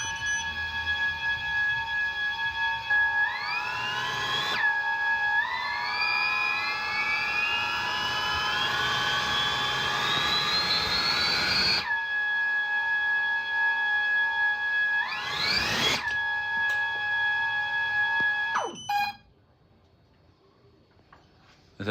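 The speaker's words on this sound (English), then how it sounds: "I just wanted everyone to hear what this thing sounded like compared to the other videos of the other version of this drone" Drone motors on a new version of a drone whine loudly with layered harmonic tones, sweeping upward through several spool-ups and bursts before cutting off abruptly near the end.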